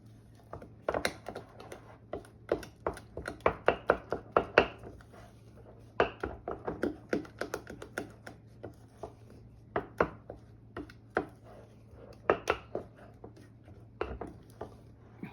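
Cookie dough made with coconut flour being mixed by hand in a bowl, giving a close, steady stream of sharp taps and clicks in irregular clusters, with no talking.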